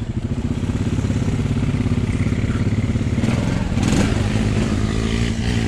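A Honda Recon and a 520 ATV churn through thick mud, their engines droning loud and steady with a rising rev near the end and clattering underneath, close by with no talking.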